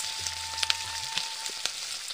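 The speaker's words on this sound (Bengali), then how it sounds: "এখন পেঁয়াজটাকে হালকা ব্রাউন করে ভেজে নেব।" Chopped onion and black cumin seeds fry in hot oil for a Bengali water lily and shrimp curry, giving a steady, close sizzling hiss with a few soft crackles and pops and no voices.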